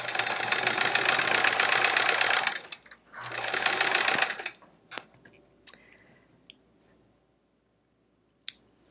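A sewing machine runs in two loud sustained bursts stitching quilt fabric pieces, pausing briefly between runs, then stops, leaving a few small clicks and handling sounds.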